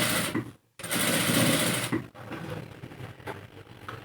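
A sewing machine runs loud and close as it stitches along the edge of a kurta placket. It makes a steady rapid whirring chatter in bursts, with brief stops between runs.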